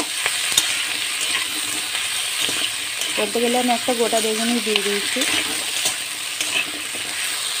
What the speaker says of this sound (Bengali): এটা আবার একটু ভাজা ভাজা করে নেবো।